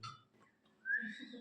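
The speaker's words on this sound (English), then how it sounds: "So you have to please whistle." A person whistles during a cranial nerve examination in a physiology setting, giving a short, rising tone held for about half a second after a quiet pause, with faint breathy onset noise before it.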